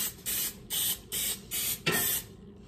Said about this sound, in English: We got the spray.